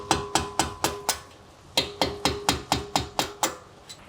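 Hammer striking a punch to drive out the front brake caliper pins on an Alfa Romeo Stelvio/Giulia, a steady run of sharp metallic blows, about a dozen, close and loud with a short pause midway.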